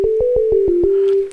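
A Yamaha FM-X synthesizer plays a nearly pure sine-wave tone, with six quick repeated notes that merge into one held note before it fades out.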